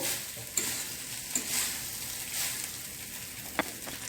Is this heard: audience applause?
no